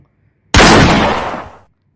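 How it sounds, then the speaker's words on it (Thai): A single loud hunter's gunshot in the forest cracks sharply, then its echo rolls and fades over about a second, with near silence before it. "เสียงปืนของพลานโรดก็ดังเป็นนัดที่สอง"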